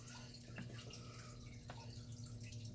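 Water drains out of the pump pulled from a small Top Fin betta fish tank, a soft trickle and a few scattered drips over a steady low electrical hum, quiet and close.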